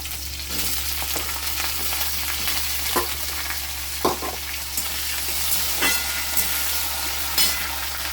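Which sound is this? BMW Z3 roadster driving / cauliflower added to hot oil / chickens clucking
cauliflower added to hot oil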